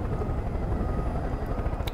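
A helicopter runs in Far Cry 5, a loud, steady close rotor drone with rhythmic chopping throughout and no voices.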